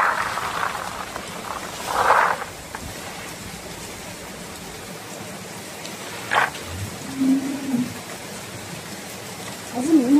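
Freshly picked peanuts are washed in water, with a few short bursts of splashing and sloshing over a quiet background and a voice speaking near the end.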